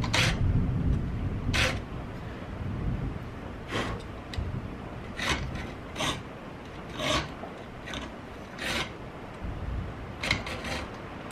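A triangular file working the shallow notches of a small bolt or screw head gives short, separate rasping strokes in an irregular rhythm, each a bright scrape, close and fairly quiet, with no talk.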